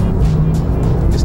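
Porsche 911 Carrera 4S engine pulling hard on a Southern California canyon road, a loud, close, steady roar sustained through the short burst with no break.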